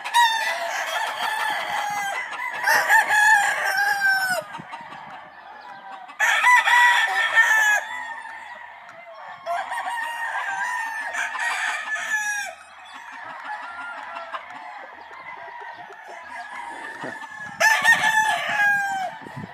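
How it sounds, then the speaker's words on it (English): Several roosters crow loudly in repeated bursts at a rooster operation in Salinas, California, one call overlapping another, with brief quieter gaps between rounds. "This is entirely roosters."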